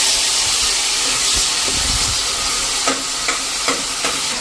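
Onion paste with ginger, chilli and garlic paste hitting a hot pan for a Gujarati varadiyu shaak, giving a steady broadband sizzle with a few stirring scrapes and small clicks toward the end, no talking.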